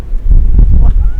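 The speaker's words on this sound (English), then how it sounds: "It's windy." A gust of wind buffets the microphone outdoors, a loud low rumbling roar that swells for about a second.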